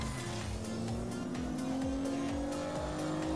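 Cars in the Agents of Mayhem video game drive fast with a loud, steady engine roar that climbs slowly in pitch, and short tire squeals break in now and then over the constant drone.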